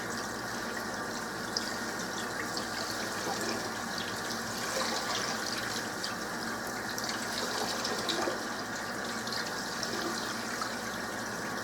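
Rice being rinsed in a sink under running tap water: a steady, fairly soft gushing stream with faint splashing, continuous and unchanging for the whole stretch.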